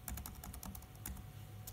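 Brightness keys on a 2013 ThinkPad laptop keyboard are pressed in quick, light clicks, a steady run of soft taps close to the microphone.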